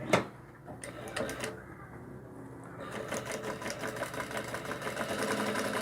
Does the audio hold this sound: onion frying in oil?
no